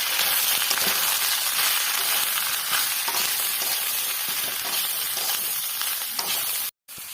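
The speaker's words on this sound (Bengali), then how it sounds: "এবার দেবো লতিগুলো, সব দিয়ে ভালো করে নাড়াবো।" Taro stolons stirred and fried with chili in a pan, giving a loud, dense, continuous sizzle with faint spatula movement throughout and a brief dropout just before the end.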